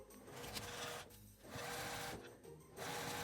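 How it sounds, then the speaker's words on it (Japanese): A home sewing machine runs close by, stitching a folded three-fold hem along the edge of fabric for a toilet paper holder, in three steady whirring runs separated by brief pauses. "端ミシンをかけます。"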